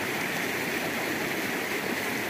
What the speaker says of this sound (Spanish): No nos quisiéramos ir de aquí escuchando el sonido del río Cañalejo